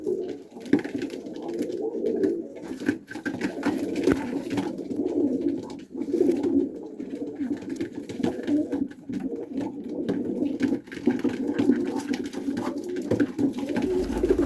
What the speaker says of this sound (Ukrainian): Пакистанська порода голубів. Така голубочка.